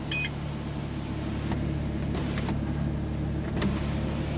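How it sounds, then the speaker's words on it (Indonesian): A BMW M2 2018 sunroof opens with a soft electric motor hum under a steady cabin drone, marked by a few brief clicks and ticks near the middle and end. "Dan mobil ini sudah dilengkapi dengan sunroof."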